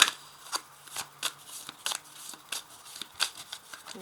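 Lenormand cards are shuffled and drawn close up, a series of crisp riffling and snapping card sounds in irregular bursts, with no talk.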